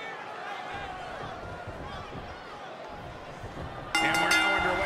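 Steady roar of a wrestling arena crowd in Brooklyn before a tag team match, a broad continuous murmur with a louder swell of cheering near the end.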